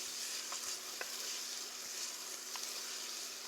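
Mirepoix sweating in a pot makes a soft, steady hiss and sizzle close by. It is quiet and even, with a few faint pops and a light scrape, and there is no talking.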